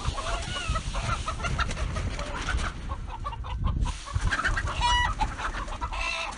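Several chickens cluck and chatter nearby, a busy mix of short clucks and squawks over a faint background rustle.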